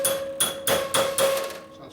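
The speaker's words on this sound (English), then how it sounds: "we're just going to give it a couple whacks and see what happens" Three or four sharp metallic whacks with a hammer on a stuck part of a used Harley-Davidson Sportster during a 10k service, struck at a steady rhythm, close and loud in a workshop.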